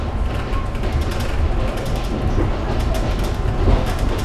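The Spirit of the Outback passenger train runs slowly and roughly on the Brisbane to Longreach line, giving a continuous loud rattle with creaks and clanks of the carriage, with no one talking.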